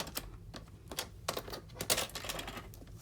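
Sharp, crisp cuts through a paper card for a whale-themed four-panel puzzle card, a burst of close snips and slices of uneven spacing, louder toward the middle, over a quiet background.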